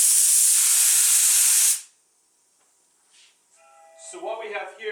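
A One Hit Wonder paint spray gun releases a loud, steady hiss for nearly two seconds, then cuts off abruptly into near silence before a voice begins talking.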